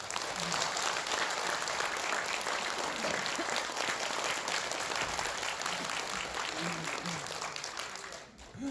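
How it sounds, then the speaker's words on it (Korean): An audience at a Korean political party seminar gives sustained applause, a close and even wash of clapping that tapers off near the end, with faint voices underneath. "뜨거운 박수 부탁드리겠습니다."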